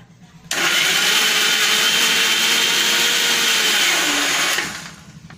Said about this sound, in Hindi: तब तक हम ये टमाटर, मिर्च और अदरक का पेस्ट तैयार कर लेते हैं।